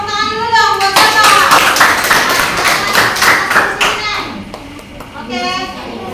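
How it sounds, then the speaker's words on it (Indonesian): A class of seventh-grade students claps for a classmate in a school lesson, a burst of rhythmic, fairly close hand claps with children's voices talking and calling out over and around it. "Sapa tepuk tangan dulu dong buat Sapa."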